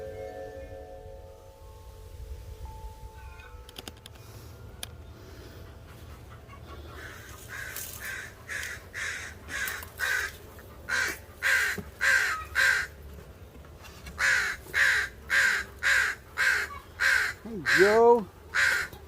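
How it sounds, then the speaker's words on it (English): Crows near a bee yard caw repeatedly in a steady series of harsh calls, growing louder and more frequent, with faint background noise underneath. "a couple of our resident crows here."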